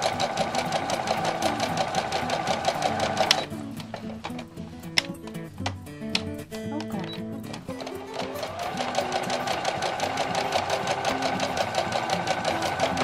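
A sewing machine stitches an apron waistband a quarter inch from the edge, running steadily and loudly, then pausing for a few seconds of light ticking and clicks before the motor speeds back up into a continuous whir.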